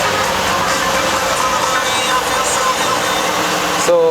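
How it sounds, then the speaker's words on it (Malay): A 2018 Mercedes-AMG GT S with its 4.0 V8 biturbo engine idles just after a push-button start, a steady, deep, even rumble heard from close by inside the cabin. "ini bunyi V8 engine lah"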